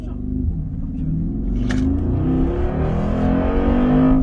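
A car engine revs hard as the car accelerates, a loud close rumbling drone that climbs steadily in pitch throughout.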